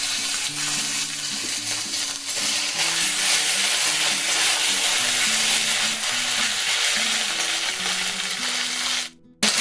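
Cumin seeds sizzle in hot oil as a tempering for jeera rice, a continuous bright crackling hiss with tonal background notes, then a sudden brief drop near the end.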